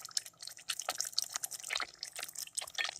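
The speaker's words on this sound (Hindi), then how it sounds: "अब हम ग्रेवी के लिए तकरीबन आधा कप पानी डाल देंगे।" About half a cup of water splashes and drips into chicken korma for gravy, a soft, continuous run of small spattering and trickling sounds, fairly faint and with no talking.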